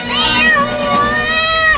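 A domestic cat meows in a Fresh Step cat litter radio commercial: one drawn-out, wavering meow, close and fairly loud, with a slight dip and second rise in pitch, and no talking over it.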